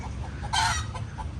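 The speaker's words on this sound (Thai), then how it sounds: "ไก่ต่อบ้านนู้นขันอยู่" A decoy rooster crows once, fairly distant and brief, over a quiet outdoor background with faint low rumble.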